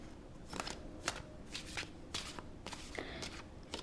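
Tarot cards are shuffled and drawn close by in quiet surroundings, a series of crisp riffling and sliding bursts separated by short pauses.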